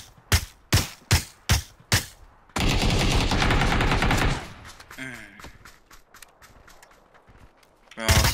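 Rapid bursts of gunfire from a PUBG match: five sharp, evenly spaced shots up front, then a dense stretch of sustained fire and clatter that fades into softer scattered sounds, with one more loud burst at the end. Players talk over it.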